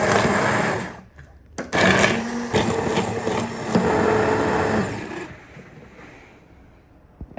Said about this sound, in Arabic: دوكا راح نطفي عليها ورايحه نميكسيها بالبلا ميكسر